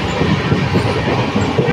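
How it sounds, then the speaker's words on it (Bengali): A train rolls past at Bardhaman railway station, a steady loud rumble of wheels and carriages with rhythmic clacking that runs through the whole moment, close by and without voices. "আর আমি এখানে বসে বসে ট্রেন দেখছি, আর তোমাদেরকেও দেখাচ্ছি"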